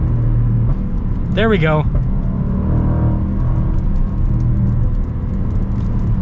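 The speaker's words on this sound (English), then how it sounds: "I got it to do a couple of the crazy pops" A high-mileage Range Rover Sport SVR drives along with a steady, loud engine and exhaust rumble throughout, under a brief spoken remark near the start.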